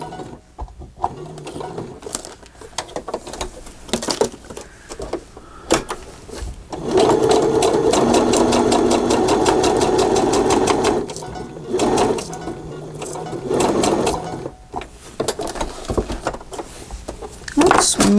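A sewing machine stitches around the edges of a handmade journal in short bursts of rapid mechanical chatter, one longer run in the middle, separated by pauses where a person talks nearby.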